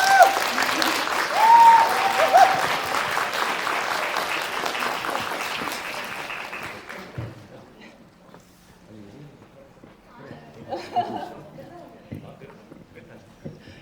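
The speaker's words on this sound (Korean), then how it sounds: "큰 박수로 맞아주세요" Enthusiastic audience applause welcomes the director and actors to the stage at a Korean film screening Q&A, dense clapping for about seven seconds, then fading into scattered claps and murmurs as the hall settles.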